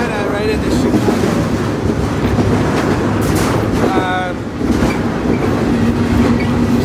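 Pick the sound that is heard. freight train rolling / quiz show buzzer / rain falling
freight train rolling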